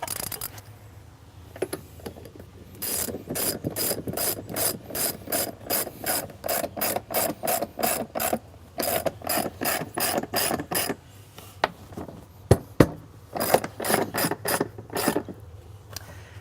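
A ratchet clicks in rapid bursts while tightening the band bolt on an Astral 420 cartridge pool filter tank. Runs of quick, close, even clicks are separated by short pauses, with a few sharp knocks near the end.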